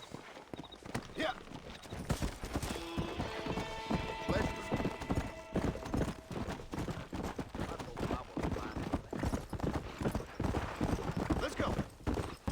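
Rapid hoofbeats of a galloping horse in the video game Red Dead Redemption pound steadily throughout, with a horse whinnying early on and voices speaking over the clatter.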